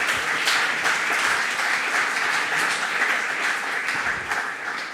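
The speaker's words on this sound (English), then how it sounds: "So please applause for Minister Gerosa." Audience applause for Minister Gerosa at a health care financing summer school: a room full of people claps in a thick, even wash that stays loud for the whole stretch, easing slightly near the end.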